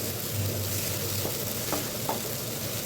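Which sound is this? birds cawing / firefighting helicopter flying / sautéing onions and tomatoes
sautéing onions and tomatoes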